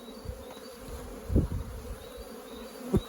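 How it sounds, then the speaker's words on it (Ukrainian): Honeybees fly out of a hive on an early spring day in southeastern Ukraine, a continuous buzzing hum with individual bees passing close by in brief louder bursts. "І бджолки наші полетіли. Так, гарненько полетіли."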